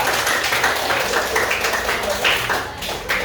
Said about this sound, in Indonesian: Ya, tepuk tangan buat kelompok 2.